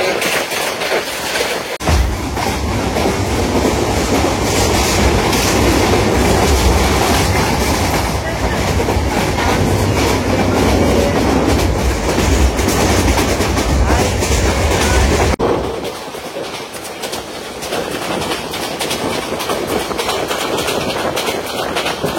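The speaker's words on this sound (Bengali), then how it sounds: "আর আমাদের ট্রেনটি এখন Jinardi railway station through pass করছে।" A Mohanagar Godhuli Express passenger train runs through Jinardi station at night, loud steady rail rumble and clickety-clack from inside the moving train, then dropping to a softer, hollower roll near the end.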